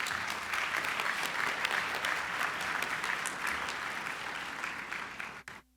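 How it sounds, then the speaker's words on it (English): A ceremony audience at the Florida Inventors Hall of Fame breaks into sustained applause, a dense even roar of many hands that holds steady and then tapers off abruptly at the end. "You need to give yourself a round of applause."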